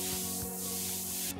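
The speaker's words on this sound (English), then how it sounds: "Quick, the bug spray!" A bug spray in the Bluey video game gives a single loud, continuous hissing spray lasting just over a second, alone and close up.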